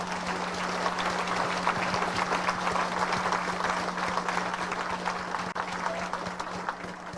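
An audience at a sprint car hall of fame induction ceremony applauds steadily, a dense, continuous wash of clapping that holds at an even loudness throughout, with no talking.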